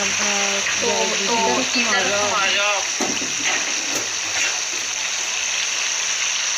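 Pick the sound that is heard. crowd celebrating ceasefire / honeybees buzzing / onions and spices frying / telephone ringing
onions and spices frying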